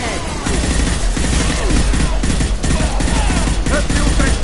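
Sustained automatic gunfire in the sci-fi shooter Mass Effect 2, a loud, continuous rattle of rapid shots with faint voices mixed underneath.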